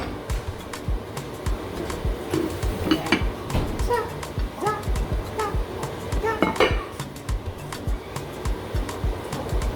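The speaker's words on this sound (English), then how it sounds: "I'll move my Instant Pot out the way." An Instant Pot is shifted aside on a kitchen counter amid a clatter of metallic clinks and knocks from pots and utensils, close and busy, with no voices.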